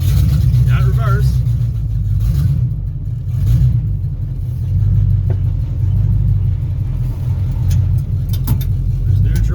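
A Chevrolet C1500 shortbed pickup engine, not yet tuned, runs steadily during a transmission test, a loud close low rumble that swells and eases slightly, with someone talking over it.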